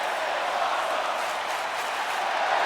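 Arena crowd in WWE 2K25 at a Glendale wrestling show, a steady, broad roar of cheering and applause at moderate distance, unbroken throughout.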